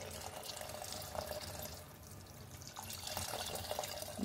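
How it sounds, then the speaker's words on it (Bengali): Hot water poured into a pressure cooker holding mutton curry, a steady splashing, gurgling stream heard up close for several seconds with no talking. "পরিমাণ মতো গরম জল দিয়ে দিলাম"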